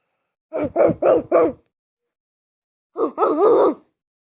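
A person imitates a dog barking, with four quick, loud vocal barks in a rhythmic burst, a pause, then a longer drawn-out bark-like howl, all close and alone.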